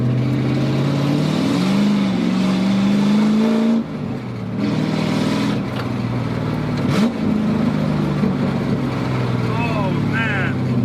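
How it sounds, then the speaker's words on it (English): A Chevy Camaro Z28 1LE race car engine revs hard and rises in pitch for a few seconds, then drops and revs again as the tires break loose, close and loud, with a voice talking briefly near the end. "I can give it a little bit. It'll break the tires loose."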